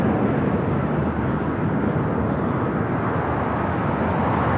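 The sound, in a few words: United Express SkyWest Embraer E175 jet at LAX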